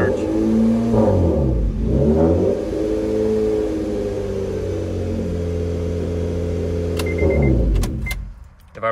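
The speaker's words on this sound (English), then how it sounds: "If I rev it a little higher, it would surge even more." An Acura TL with an idle surge is revved repeatedly, close and loud, the engine note climbing and falling in waves before settling into a steady hold, ending with a brief clatter near the finish.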